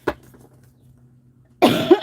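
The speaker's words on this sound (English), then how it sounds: "Sorry if someone's in here and I coughed in your ear." A woman coughs near the microphone during a live tarot reading stream, one short cough at the start and a louder, fuller cough burst at the end, with quiet hum between.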